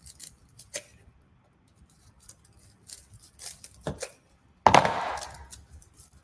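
Scissors cut craft ornament material for a Halloween broom decoration: a few scattered quiet snips, then one louder, longer crunching cut near the end, heard up close with no speech.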